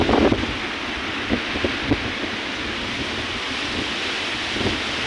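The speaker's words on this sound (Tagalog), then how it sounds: "Sobrang lakas ng hangin." Strong wind roars steadily on a seashore, buffeting the microphone with a constant broadband rush and a few low thumping gusts.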